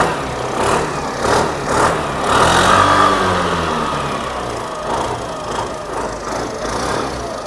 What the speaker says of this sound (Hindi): काफ़ी ज़बरदस्त आपको इसका इंजन साउंड अब देखने को मिलेगा।